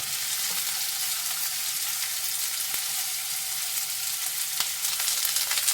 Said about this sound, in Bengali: দেখো একটু লালচে লালচে করে ভাজা হবে